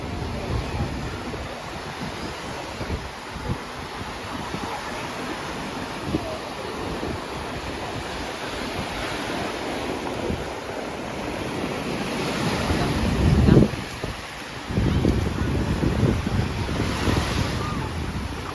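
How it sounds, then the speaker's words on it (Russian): Outdoor surf with waves washing onto the beach at Dzhemete on the Black Sea coast under constant wind buffeting the microphone, with a louder surge of water near the end. "Я сейчас покажу море."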